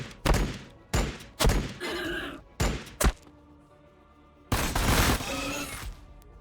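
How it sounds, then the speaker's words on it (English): Several heavy, punchy bolt pistol shots in a Warhammer 40,000 game, coming in a quick uneven series of loud bangs, then a pause and a longer rumbling blast near the end, with no speech. "Some very ineffective fire there with the bolt pistol."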